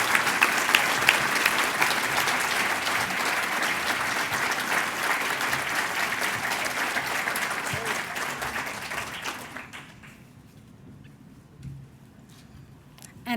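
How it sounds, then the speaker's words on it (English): An audience at an innovators award ceremony applauds loudly and steadily for about nine seconds, then the clapping thins out and fades into quieter room noise. "Deanna Shope Tinsley, let's give her a round of applause"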